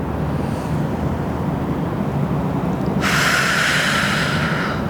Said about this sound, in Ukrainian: Робимо вдих.